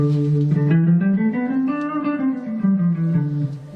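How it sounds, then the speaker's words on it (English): A melodic instrument plays a stepwise scale rising and then falling, each note clearly sounded in a smooth, moderate sequence. "you get this mode called the Dorian mode"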